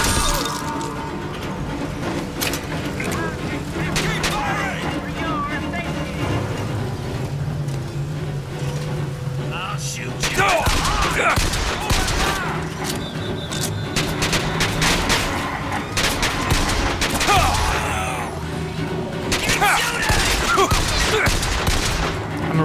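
Heavy gunfire in Bioshock Infinite: dense volleys and rapid bursts with shattering and crashing impacts, loud and sustained over a busy game soundtrack.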